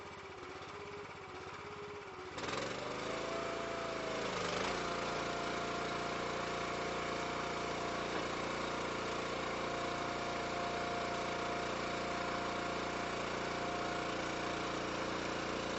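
Anderson IFX-660 machine's engine is raised from a low idle to a higher, steady drone after about two seconds, then runs continuously and evenly to the end.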